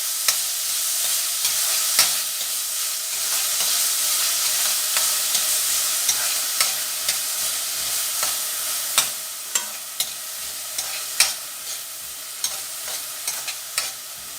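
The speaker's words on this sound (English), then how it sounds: "You don't want to completely cook the peppers, just sizzle them for a few minutes." Chopped bell peppers sizzle in a hot pan for Mexican wraps, with a continuous frying crackle and repeated scraping knocks of a utensil stirring them, close and loud with no talking.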